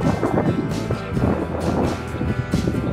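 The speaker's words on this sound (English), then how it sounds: "So, it's windy." Wind gusting outdoors at a scout camp, a steady buffeting roar with rumbling microphone noise throughout, loud and close.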